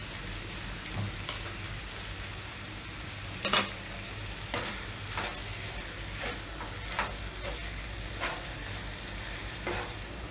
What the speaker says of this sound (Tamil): எல்லாத்தையும் சேர்த்து நல்லா கலந்து விட்டுக்கோங்க.